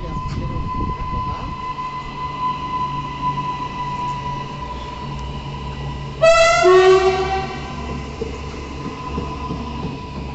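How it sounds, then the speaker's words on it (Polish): A Koleje Zachodniopomorskie passenger train pulls out of Tarnów station toward Kraków with a steady rolling rumble, then a loud, close horn blast sounds midway and fades over the moving train. "Odjazd w kierunku Krakowa."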